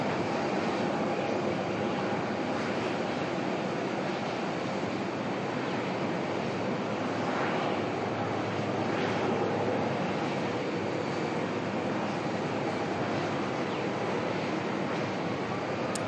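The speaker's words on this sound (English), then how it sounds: "lining up next, we've got a Jetstar 320 heading over to Adelaide" A Jetstar Airbus A320 airliner takes off at Melbourne Airport, heard as a sustained broadband engine roar at a distance, steady and moderately loud throughout with no talk over it.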